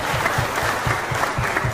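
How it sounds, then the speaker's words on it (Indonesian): Steady, dense audience applause fills a political congratulations gathering in Siak, with many hands clapping at close range and no talk over it. "Tepuk tangan Pak, luar biasa."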